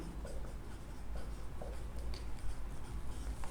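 Marker strokes on a board: scratchy, rhythmic rubbing as letters are written, close and fairly quiet against a low room hum, with no voices.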